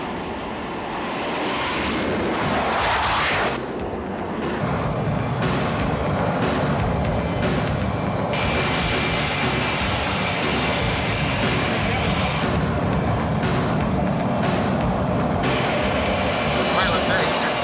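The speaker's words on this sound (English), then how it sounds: "I'm ready to put this plane through its paces." A fixed-wing airplane's engine drones steadily and loudly for most of the stretch, mixed with a windy, surf-like rush, with a brief burst of noise near the start.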